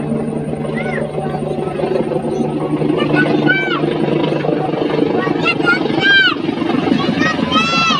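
A helicopter flies overhead, its steady rotor drone holding throughout at close range while birds chirp now and then above it.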